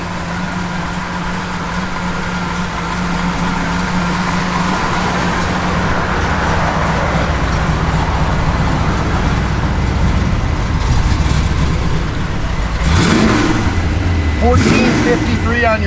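1964 Chevrolet Malibu SS V8 with an aftermarket cam idling with a lumpy, loping rumble close by, rising in a couple of revs near the end, while someone talks over the engine.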